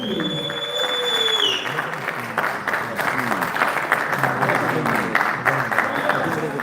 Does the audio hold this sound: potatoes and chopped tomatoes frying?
no